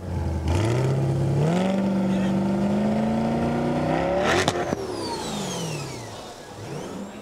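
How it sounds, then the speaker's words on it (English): Lingenfelter-supercharged Corvette Z06 revving up at a car auction, the engine climbing and holding loud up close, then falling away as a high supercharger whine sweeps downward and fades over the settling engine. "Can you hear that supercharger whine?"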